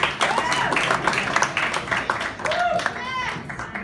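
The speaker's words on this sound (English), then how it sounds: "Keep your hands going for Matt Brown." A comedy club audience claps and applauds steadily throughout, a dense crowd of hands close by, with a few voices calling out over the clapping.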